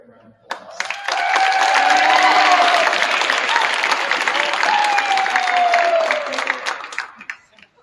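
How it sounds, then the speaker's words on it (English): Audience applause for high school baseball athlete Cole Telchik at a signing event, a sustained round of clapping with some cheering that swells quickly, holds steady for several seconds, then fades out. "Give Cole a quick round of applause."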